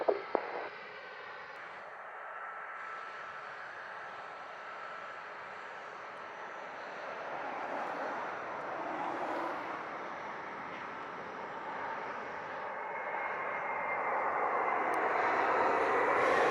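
An airplane at Montego Bay airport in Jamaica gives a steady distant engine roar that slowly swells louder toward the end, with no talking.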